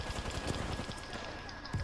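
Rapid gunfire rattles in an Apex Legends match, quick bursts of shots at moderate distance under a busy, noisy game mix.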